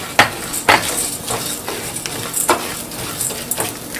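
Urad dal and chana dal sauté in a hot pan, crackling softly while a spoon scrapes and stirs in several distinct strokes, close and fairly steady throughout.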